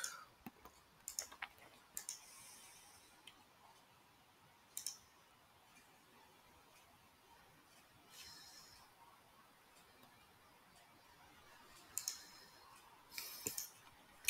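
Quiet, sparse computer mouse clicks, a handful of sharp isolated taps spread out over low background hiss, with no talking.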